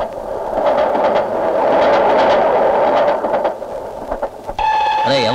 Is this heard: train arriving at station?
yes